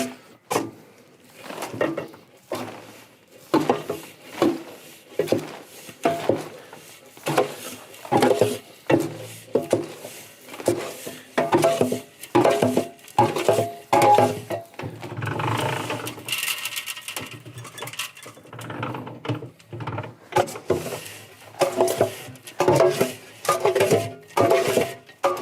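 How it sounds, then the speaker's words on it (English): Livestock feed for goats, cattle and sheep being scooped and mixed by hand, giving a steady run of close, rhythmic scraping and rustling strokes with a brief busier stretch in the middle. "I like to scoop from the back to the front."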